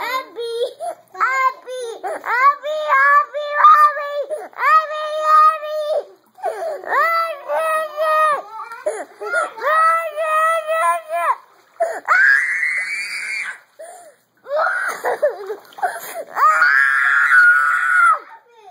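A young child named Jack swimming on his own, crying and wailing through repeated sobbing bursts, with some splashing water beneath the loud cries.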